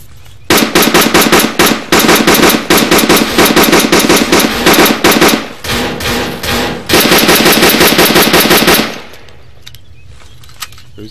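Machine gun fire in the ARMA 3 military game comes as loud, rapid sustained bursts, with a short pause mid-way and a final long burst that cuts off into near quiet.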